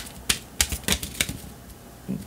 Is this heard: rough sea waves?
no